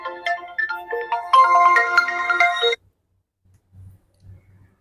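A bright electronic ringtone melody plays loudly for a few seconds, then cuts off abruptly, leaving near silence with a few faint low thumps.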